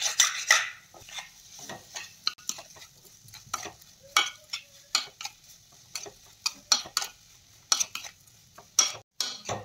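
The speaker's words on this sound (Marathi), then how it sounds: "आणि आता छान साखर यामध्ये मिसळून घ्यायची आहे।" A spoon stirs sugar into semolina for sheera in a pan over low heat, giving repeated scraping and tapping strokes in an uneven rhythm, close and fairly clear, with no voices.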